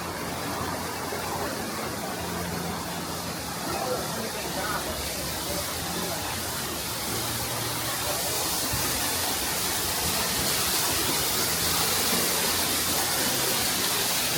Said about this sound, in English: It's kind of a hidden little gem back here, coming over to a waterfall.